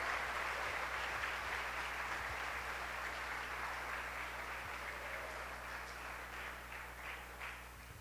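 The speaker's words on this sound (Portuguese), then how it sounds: "Dá um aplauso para Jesus bem forte aí," Church congregation applauding at a celebration, a steady dense wash of clapping that holds throughout, with a low constant hum underneath.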